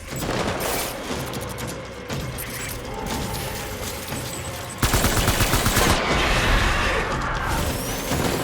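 Dense gunfire from the video game Death Stranding: a steady, loud barrage of overlapping shots that gets heavier and more rapid midway, with continuous bursts rolling on to the end.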